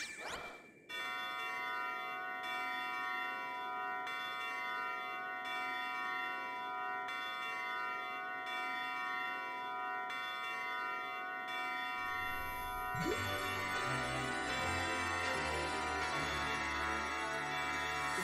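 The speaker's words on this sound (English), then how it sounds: "we gotta ring the bell" A bell rings in the video game Klonoa 2: Lunatea's Veil with a long, sustained metallic tone. It is soon joined by brighter game music that swells in near the end.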